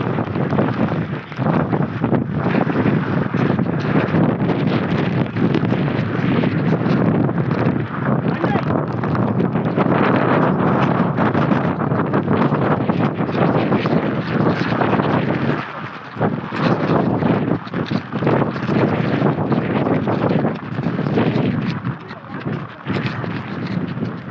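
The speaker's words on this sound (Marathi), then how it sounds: "आणि वारा खूप जास्त जोरात चालू आहे" Strong, gusting wind roaring continuously across the microphone on the rocky heights of Sarasgad hill fort near Pali, heavy buffeting noise throughout with brief lulls.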